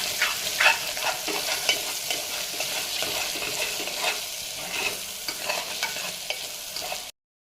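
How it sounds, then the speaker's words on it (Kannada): Egg rice is stirred and mixed in a hot frying pan, a continuous close sizzle overlaid by repeated scraping strokes of the spoon. "ಇವಾಗ ಇದನ್ನು ಚೆನ್ನಾಗಿ ಮಿಕ್ಸ್ ಮಾಡ್ಕೋಬೇಕು ನೋಡ್ರಿ."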